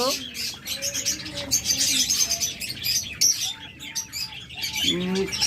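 King quail, including high-mutation blue and silver classic birds, chirp and tweet continuously in a close, busy cluster of short high calls at fairly loud level.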